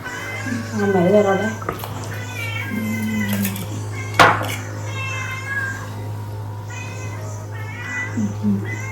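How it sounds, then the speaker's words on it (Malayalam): A domestic cat meows several times close by in a kitchen, with people talking over and between the calls and a steady low hum underneath. "പൂച്ച കരങ്ങാണ് ഇവിടെ"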